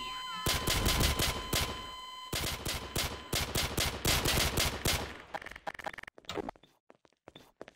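Rapid volleys of gunfire in a Five Nights at Freddy's roleplay game, loud sharp bursts close together for several seconds, then thinning into scattered single shots and clicks before trailing off.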